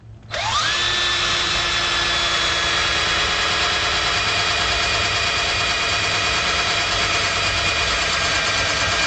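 A power drill spins up and grinds steadily for several seconds, a loud continuous high whine as the bit works through a tough steel guitar pedal enclosure.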